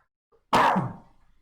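A man clears his throat once, a short rough burst that fades out over a second, close and alone during a home-school lesson on theatre history.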